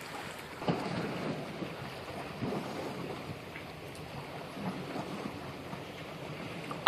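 A boat moves across open water in the wind, a constant rushing wash of water and wind buffeting the microphone, with soft surges rising and falling throughout and no speech.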